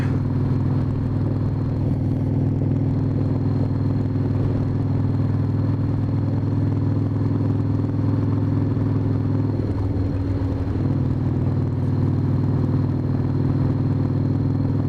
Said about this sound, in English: Hopefully you can hear what she's making, because she's making a beautiful noise.